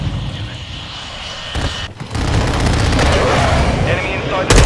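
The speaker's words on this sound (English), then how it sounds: "Friendly airstrike in the AO." Video game battle with a friendly airstrike, dense roaring rumble and engine drone over continuous crackling gunfire and blasts, loud and close throughout, with a brief dip in the middle and game voices mixed in.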